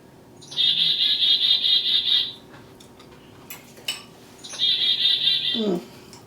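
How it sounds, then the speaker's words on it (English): A clock in a home kitchen sounds the hour with two bright, warbling chime bursts separated by a short pause, with light clatter of dishes in between. "You're always on time, clock."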